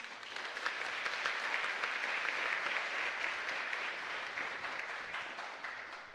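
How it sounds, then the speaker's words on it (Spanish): Congregation applause during a live church mass at Capilla Santísima Trinidad in Luque: a full, even burst of clapping heard from a distance, sustained throughout with little talk. "le damos un fuerte aplauso"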